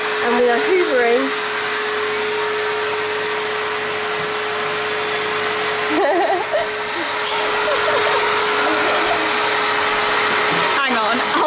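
A vacuum cleaner hoovering beside freshly erected scaffolding in a house in France, a steady loud whirring drone running throughout, with people talking briefly over it.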